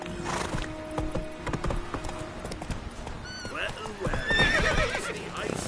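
Roach, a horse in The Witcher 3: Wild Hunt, gallops in fast, rhythmic hoofbeats and lets out a loud whinny partway through, with voices talking over the action.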